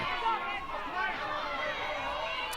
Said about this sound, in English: Crowd starting to definitely get in tune to the game, and a lot of chatter.